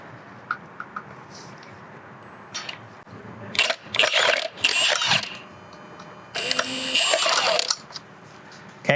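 Mechanical clicking bursts from a ratchet loosening the flex disc stretch bolts with a triple square 12 socket on a 2009-2013 Audi A4 B8 during transmission removal, coming in several loud close-up spurts separated by pauses.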